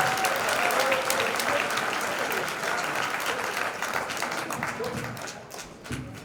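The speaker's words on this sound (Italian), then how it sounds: "Un applauso a Gianmarco, perché se lo merita." An audience breaks into sustained applause, dense clapping from many people that starts strong and gradually thins toward the end, with a few stray louder claps.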